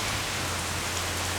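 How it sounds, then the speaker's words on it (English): Heavy rain pours steadily on a wet, windy day, a dense continuous hiss of drops on the road and surfaces with a low hum underneath, with no voices. "It's like one of the rainiest and windiest day at the same time."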